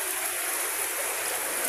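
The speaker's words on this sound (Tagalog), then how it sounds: "Lakas na din tubig doon, no? Galing sa bukid." Strong floodwater pours off a rice field during heavy rain, a loud continuous rushing hiss of running water that holds steady and fills the whole clip.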